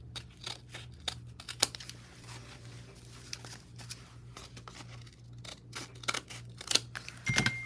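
Scissors snip along the edge of a shabby chic layered paper craft tag, giving a string of short, sharp cuts with soft paper rustling between them and a steady low hum in the background.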